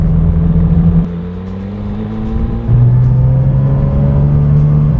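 A Porsche GT3 RS engine pulls away close up, with a loud steady drone that climbs in pitch, drops at a gearchange, then rises again on a UK road, and no voices.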